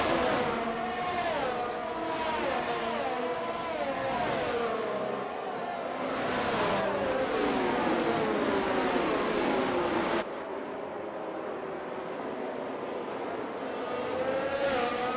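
Formula 1 cars in the F1 22 game on a wet formation lap in Mexico, several engines droning and revving together in a steady, continuous pack, with tyre-warming weaves making pitch rise and fall throughout.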